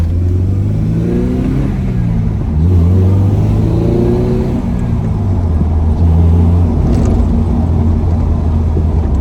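Acura RSX fitted with a K24 engine and Mugen exhaust, droning loudly from close up as it drives, the engine note rising and falling through throttle changes with a deep exhaust rumble throughout.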